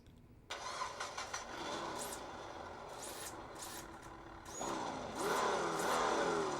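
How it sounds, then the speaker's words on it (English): A simulated engine from a micro RC car sound module cranks and starts, then idles with a rumbling hum before revving up louder toward the end, punctuated by brief electronic chirps. "let's do some engine sounds"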